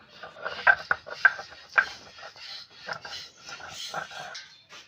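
Ginger being ground into paste on a traditional grinding stone, heard as a run of close scraping, rubbing strokes with a few sharper knocks, fairly quiet and steady.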